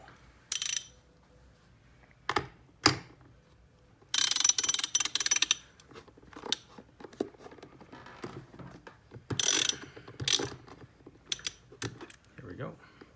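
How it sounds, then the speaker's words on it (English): Hand ratchet fitted with a 16mm socket loosening the pressure relief valve on a compressor, heard as bursts of quick metallic clicking in short runs separated by pauses, fairly close and clear over a quiet background. "The next step is to remove the pressure relief valve, for which we'll need a 16mm socket and"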